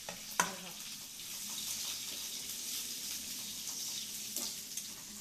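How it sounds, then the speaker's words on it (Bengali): Bottle gourd greens fry with garlic in a home kitchen, a soft steady sizzle with a couple of sharp clicks and stirring scrapes, fairly quiet and close. "রান্না করছি যে শাক রসুন দিয়ে"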